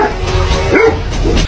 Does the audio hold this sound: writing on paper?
no